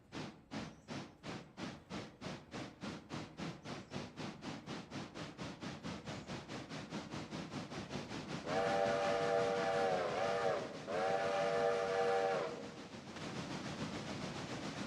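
Steam locomotive in the video game RailRoader chuffing in a rhythmic exhaust beat that quickens, then a loud whistle blows twice in long sustained blasts over the continuing chuff.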